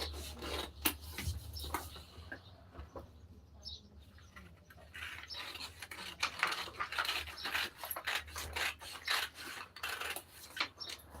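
Scissors cutting a paper pattern for a size 34 katori blouse, a close, quiet run of repeated dry rasping snips and paper rubbing in an uneven rhythm.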